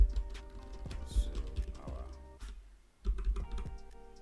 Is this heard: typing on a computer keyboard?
yes